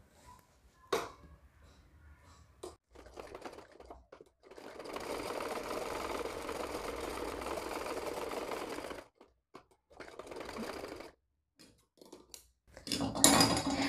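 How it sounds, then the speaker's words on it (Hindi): A sewing machine stitches a layer of a girl's yellow dress in one steady run of about four seconds, then a few shorter bursts, with scissor-like snips and handling clicks between them. "इसको हम यहाँ से इसमें सिलाई लगाएंगे"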